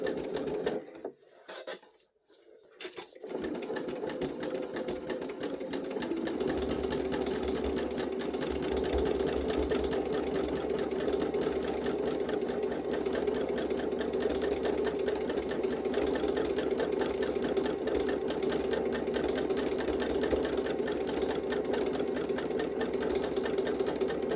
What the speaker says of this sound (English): I really encourage you to give the free motion style of stitching a go.